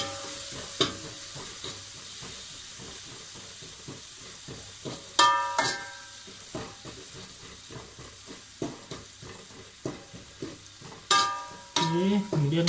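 Red chilies stir-fried for kwetiau in a hot pan in a modest boarding-house kitchen: a steady close crackling sizzle with rapid rhythmic scraping and clinking of a spatula against the pan, a few sharper bursts standing out.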